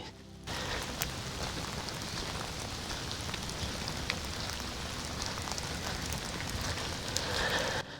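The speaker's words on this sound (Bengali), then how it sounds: "পাইন গাছের উপর থেকে জলবিন্দু টুপটাপ রিমঝিম শব্দে পড়ছে" Water drops fall steadily from pine trees in a quiet forest at Netarhat, Jharkhand, making a dense, even patter like light rain that runs on without a break.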